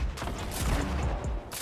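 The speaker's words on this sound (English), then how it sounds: "Yo, he's trying to drum gun us." A Fortnite drum gun fires in a rapid, dense burst of shots close by, with the rattle running almost nonstop before it briefly drops off.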